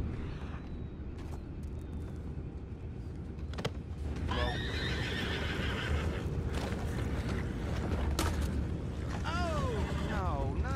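Horses in Red Dead Redemption 2 whinny in several high, shaky neighs, over a steady rumbling bed of hooves and ambient noise, with the calls growing more frequent toward the end.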